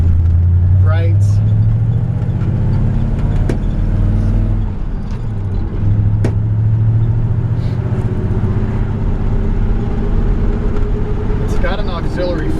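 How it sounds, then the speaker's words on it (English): A 1954 Ford F-100 pickup rolls down the road with a steady, loud low engine drone and road rumble throughout, a brief dip midway, and a person talking over the cab noise. "It rides down the road very, very nice over every bump."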